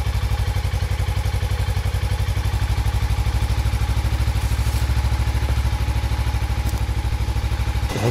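Suzuki GW250 Inazuma motorcycle engine idling steadily after starting, a close, even, rapid thrumming pulse that holds for about eight seconds before cutting off.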